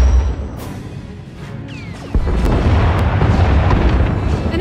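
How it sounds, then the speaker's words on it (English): A warship in a Star Wars space-combat game fires turbolasers and missiles, giving heavy booming blasts and rumbling explosions. A quieter stretch is followed by a sustained loud barrage with sharp bursts on top, close and without speech. "Enemy is firing. Turbo lasers, missiles, and what looks like transport pods."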